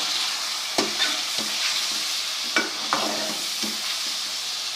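Chicken pieces frying in a karahi with garlic and ginger paste, a steady sizzle under intermittent scraping stirs of a spoon, about six distinct strokes over a few seconds.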